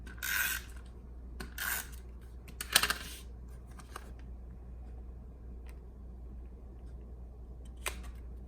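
Paper cardstock is rubbed firmly onto a greeting card to stick it down, giving a few brief, faint scraping rubs separated by quiet, close and without voices.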